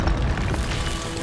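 A fire spell in Hogwarts Legacy bursts out with a deep, booming whoosh, loud and close, rumbling for about a second with no talk over it.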